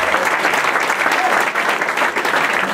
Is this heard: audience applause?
yes